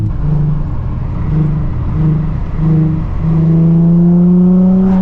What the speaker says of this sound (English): there's like this little tiny whistle sound right when you hit the accelerator